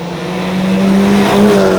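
A Golf 5 GTI with a stage 3 tune revs hard on the road, engine note climbing steadily over under two seconds, loud and close, with no talk over it.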